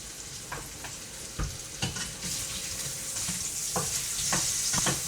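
Linguica sausage frying in a pan sizzles steadily at moderate volume while intermittent utensil clacks and scrapes break in every second or so.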